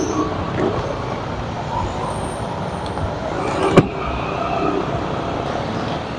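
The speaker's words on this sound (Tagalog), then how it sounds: "Grabe ang traffic, guys." Heavy road traffic rumbles steadily at a crowded roadside, a constant broadband wash of passing cars and engines with one brief sharp knock partway through.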